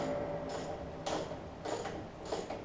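A ratchet wrench turns in four short bursts of rapid clicking while tightening the starter solenoid on an MTD LT1442 riding mower, close and moderately loud, each burst about half a second apart.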